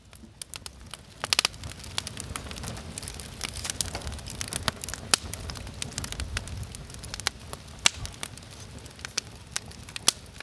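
A campfire crackles steadily up close, with frequent sharp pops and snaps over a soft rushing burn, no voices.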